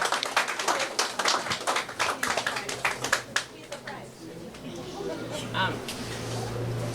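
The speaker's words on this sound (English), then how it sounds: "we could give Mr. David a round of applause" At a hospital World Blood Donor Day ceremony, a small audience gives a round of applause, crisp claps for about three seconds that taper off into room noise and a faint voice.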